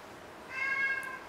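A single cat meow, short and moderately close, rising briefly out of quiet room noise.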